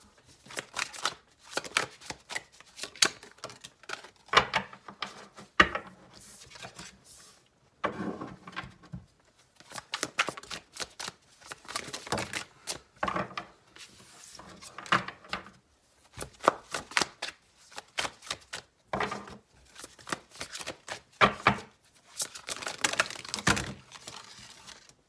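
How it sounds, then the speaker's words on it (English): A deck of tarot cards is shuffled over and over in quick riffling bursts, separated by short pauses, close and clear with no talking. "just from the way the cards are shuffling"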